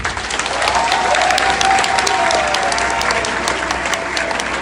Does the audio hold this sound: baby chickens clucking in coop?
no